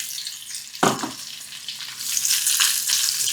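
Bell pepper drops into a hot pan with calabresa sausage and onion, bursting into a loud, close hiss that settles into a steady sizzle with stirring scrapes, with no talking.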